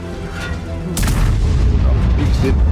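A heavy tank cannon blast from a Grille 15 in World of Tanks on the Prokhorovka map booms loudly, followed by rumbling echoes under a voice speaking.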